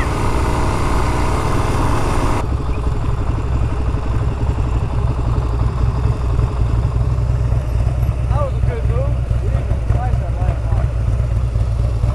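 Suzuki DRZ 400 dual-sport motorcycle riding past a long line of waiting traffic, with steady loud engine and wind noise throughout and a brief sharper burst at the start.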